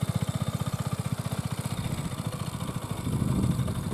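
A KTM Duke 125 motorcycle engine idles close by with a steady, rapid low thumping that loosens into a rougher rumble toward the end.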